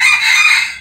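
A fighting-breed rooster crows in a short, loud, close burst that cuts off within a second, heard alone without any talking.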